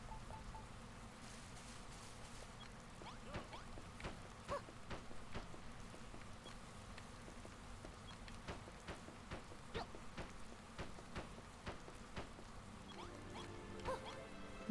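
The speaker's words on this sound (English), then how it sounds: "I guess the rain is kind of just meant to be ambiance time." Faint ambient rain in Dragon Quest Builders 2, a soft steady patter with scattered light drop ticks throughout, quiet and continuous with no talk.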